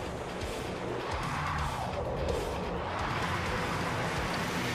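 Gigantic truck driving in Transformers: Devastation, with tires skidding and squealing in a steady, loud, continuous rush of engine and tire noise.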